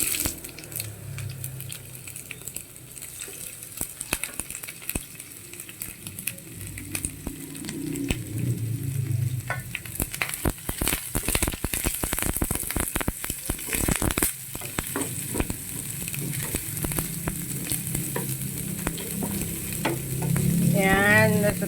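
Onion sautés in a frying pan with a continuous close sizzle, punctuated by repeated metallic scraping and clacks of stirring that grow busier in the middle, with no voices.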